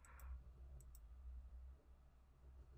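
Two quick clicks of a computer mouse button, each a sharp double tick, sit close and faint over a steady low room hum.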